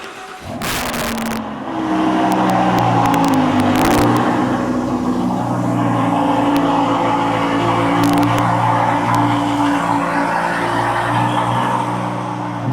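A 2015 car's engine cranks and fires, then holds a loud, steady, throaty idle and rev close by, with a few sharp clicks and knocks over the drone.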